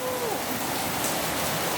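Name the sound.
rain falling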